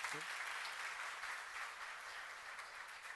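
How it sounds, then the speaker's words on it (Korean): A church congregation claps together during a Korean sermon, a dense, steady wash of applause filling the room and holding at an even level throughout, with no voices rising above it. "함께 있는 걸 감사한 사람만 박수 한번 치세요"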